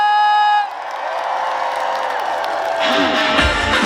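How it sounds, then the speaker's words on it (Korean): A concert crowd at a trot show at the 38th Yeoju Ceramics Festival cheers and claps, rising from a murmur into a louder swell after sustained music tones fade at the start. "신나는 메들리 여러분들과 박수와 함성으로 시작해 보겠습니다"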